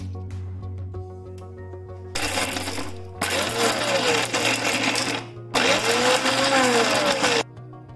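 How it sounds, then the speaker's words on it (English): A blender gives quick pulses on garlic, pepper and walnuts, making three loud motor bursts of roughly one to two seconds each, with short gaps between them and a steady low hum underneath. "I'm going to give it a quick pulse in the blender"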